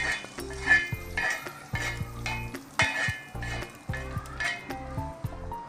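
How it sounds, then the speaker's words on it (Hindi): Ghee and browned onion tempering poured into a pot of paya, giving a steady sizzle with repeated clinks and scrapes of a spoon against metal cookware, close and fairly loud with no talking. "ये हम अपने पाए में ही भगार लगा रहे हैं घी का"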